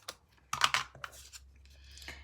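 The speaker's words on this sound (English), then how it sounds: "using my tape runner again" A tape runner laying adhesive for a papercraft Christmas bauble gives a few quiet, close clicks and short crinkly rasps, with faint rustling between them.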